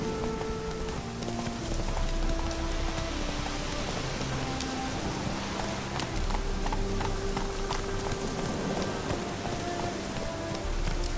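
Roach, a horse in The Witcher video game, trots with steady rhythmic hoof clip-clops that run throughout over a soft rain-like ambient wash, fairly close and even in level.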